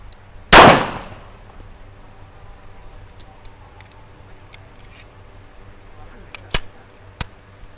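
A single loud, sharp report from a Colt Gold Cup pistol stands out up close with a ringing tail, then later come two much briefer, fainter sharp clicks or metallic clinks over quiet background.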